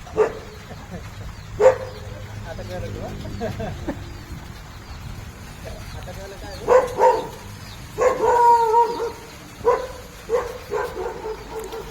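A dog barks in short bursts at a snake, a couple early and a cluster of sharper barks later, with faint bird chirps and outdoor noise behind.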